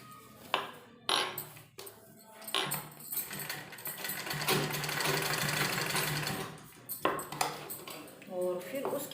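A sewing machine stitches a trouser seam in short bursts with pauses and clinks between runs. A steady run sits in the middle. Someone speaks quietly during the breaks.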